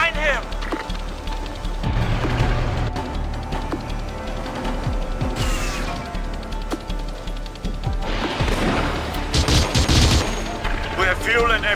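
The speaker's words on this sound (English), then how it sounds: "Taking fire from sniper!" Sniper shots and bursts of gunfire ring out in Battlefield 2: Modern Combat on PS2, with repeated sharp cracks and rattling volleys over a dense battle din, while radio-style voices talk throughout.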